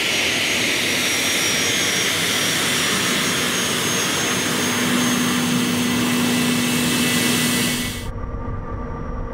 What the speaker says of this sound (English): We'll use moderate reverse thrust and light braking.